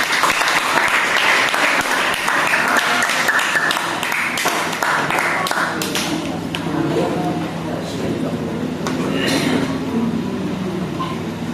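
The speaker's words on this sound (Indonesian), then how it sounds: "beri tepuk tangan untuk kelompok" Classroom applause for a student presentation group, a dense sustained burst of many hands clapping that gradually thins out, with voices mixed in.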